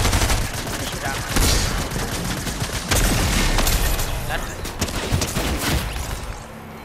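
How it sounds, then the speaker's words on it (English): Dense, continuous gunfire from the video game Fortnite, rapid overlapping shots in a steady barrage over several seconds, loud and close, with talking mixed in. "I'm gonna shoot at him."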